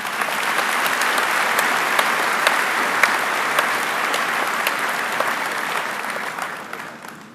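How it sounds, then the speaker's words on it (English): Sustained applause from a high school commencement crowd honoring the class valedictorian, a broad even roar of many hands clapping that holds steady before tapering off at the end. "Andrew, please join me in honoring him with a round of applause"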